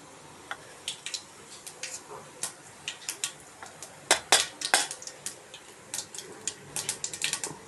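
Cumin and mustard seeds hitting hot oil for tempering, giving a scattered run of sharp, bright pops and crackles that grow busier toward the end, fairly close and with no talk.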